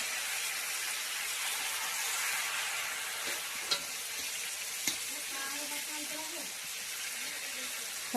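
Country chicken meat sizzles steadily in a pan as it is fried, a dense continuous hiss with a couple of faint scraping knocks from stirring and a voice murmuring underneath.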